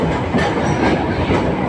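An Alexandria tram pulls into Victoria station, heard from inside as a loud, continuous rumble and rattle of wheels on track with steady clatter throughout.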